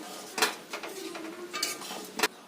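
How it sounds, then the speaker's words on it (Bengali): A spoon stirs pointed gourd curry in a metal pot, giving a few scraping strokes and clanks against the sides with a faint sizzle underneath and no talking. "গরম মশলা দিয়ে ভালো করে নেড়ে চেড়ে নামিয়ে নেব"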